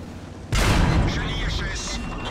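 A tank cannon fires in an online tank battle game, a sudden loud blast partway through followed by a long rumbling, crackling decay.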